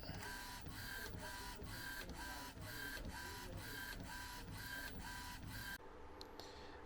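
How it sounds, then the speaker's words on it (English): A DTF printer runs with rapid, regular print-head passes about twice a second over a steady mechanical whir, then stops near the end. "But there it goes, it's printing."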